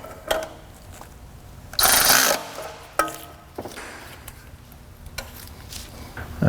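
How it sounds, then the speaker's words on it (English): A ratchet tightening a bolt on a Honda Civic D-series engine during a timing belt job, with several short clicking bursts and one longer ratcheting run, close and moderately loud with no talk. "I'll tighten the bolt."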